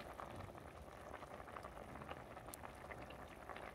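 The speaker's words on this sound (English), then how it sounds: "I'm gonna boil until it is soft" Ackee boiling in a pot, a soft, steady bubbling and crackling patter of simmering water, quiet and continuous with no voices.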